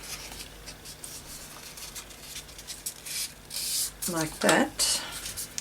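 Paper being scored with a tool for folding, a series of soft scraping strokes that grow louder toward the end, with a brief spoken remark near the close.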